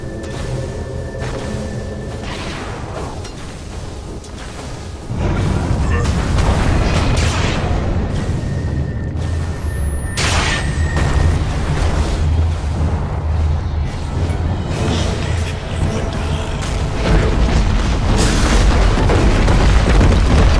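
Heavy booming impacts and explosions as a tower is attacked and destroyed in Dota 2, loud continuous barrage of game combat blasts and bursts with no voices.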